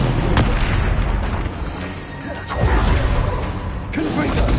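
Spellcasting in the video game Hogwarts Legacy, including the Incendio fire spell: a string of loud whooshing bursts and booming impacts, with sharp pops at intervals amid continuous rumbling combat noise.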